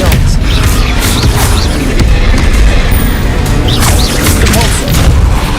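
Heavy spell impacts in Hogwarts Legacy combat, with an Expelliarmus blast landing amid a dense run of booming, crashing hits that keep up loudly and almost without pause.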